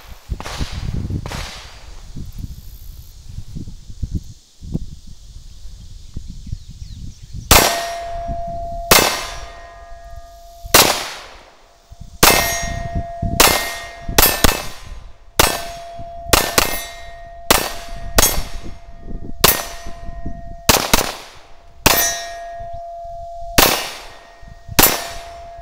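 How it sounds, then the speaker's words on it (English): Bullets hitting steel targets: repeated sharp metallic clangs with a bright ringing tone, roughly a dozen impacts spaced a second or two apart, each ring decaying quickly; no talking. "every time you hear that bell ringing sound in the background, that means she's hitting the target"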